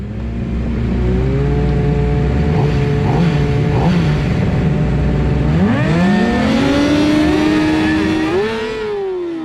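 Middleweight superstock race motorcycle heard onboard during an ASMA roadracing event at Inde Motorsports Ranch, the engine loud and close, holding a steady drone before revving up sharply through the gears as it drafts down the straight.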